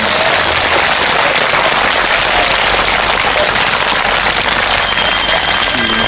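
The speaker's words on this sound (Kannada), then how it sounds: "2 ಕೈ ಎತ್ತಿ ಜೋರಾಗಿ ಚಪ್ಪಾಳೆ ತಟ್ಟಬೇಕು" Loud, dense clapping from a large audience at a Kannada talk, a continuous wash of hand claps lasting several seconds with no voices on top.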